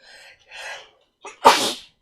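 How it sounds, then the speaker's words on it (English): A person's morning sneeze, close and loud, with a couple of soft breathy inhales building up before one sharp explosive burst. "that's my morning sneeze"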